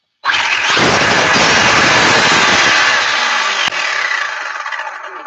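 A first-generation Traxxas E-Revo RC truck's brushless motor revs hard and loud with no break for about three seconds. A slightly quieter steady whine follows after a short dip.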